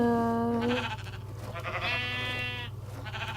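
A Minecraft sheep bleats twice, wavering calls over a steady low hum, with a short gap between the two cries.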